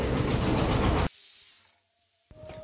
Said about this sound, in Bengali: এইদিকে প্রেশার কুকারে বসিয়ে দিয়েছি, বেশ অনেক কয়টাই সিটি লাগবে